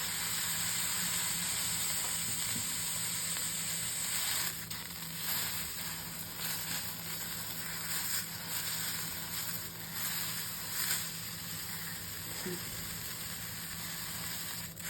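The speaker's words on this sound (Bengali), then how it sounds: "এগুলো শুকনো তাওয়ায় সেঁকে নেব" Whole neem leaves dry-roasting on a dry tawa griddle, a faint steady sizzle and hiss with soft crackles and occasional turning scrapes, quiet and close.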